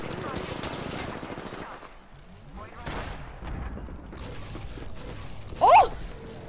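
Gunshots from the Apex Legends video game crackle in rapid bursts under ongoing game sounds and a talking voice, with a sharper, louder burst near the end.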